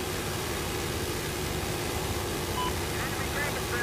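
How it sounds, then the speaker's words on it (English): Helicopter in the video game Battlefield 4 giving a steady, loud broadband engine and rotor roar that fills the whole clip, with faint game sounds near the end. "Damn, let's kill this chopper."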